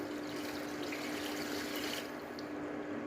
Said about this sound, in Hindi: इसके बाद मैं 1 जग भरकर पानी का इसमें शामिल करूँगी।